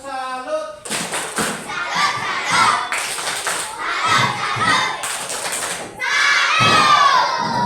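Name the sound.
schoolchildren doing the 'tepuk salut' clapping chant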